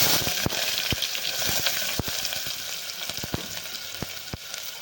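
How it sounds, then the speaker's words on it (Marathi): Chopped onion frying in hot oil with mustard seeds and cumin: a bright continuous sizzle punctuated by many sharp pops and crackles from the spluttering seeds, close and steady. "आपण परतून घेणार कांदा आपल्याला जास्त परतावायचा नाही थोडा मस्त असा गुलाबी होईपर्यंत थोडा तळणार आहे"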